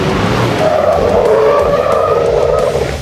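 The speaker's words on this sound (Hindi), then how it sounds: "अब नेक्स्ट टेस्ट जो हमारा होगा वो गाड़ी की कॉर्नरिंग टेस्ट करेंगे" Toyota Hilux on Michelin tyres skidding through an off-road corner in a handling test: a loud, sustained tyre squeal over engine roar, steady for about three seconds with no talk.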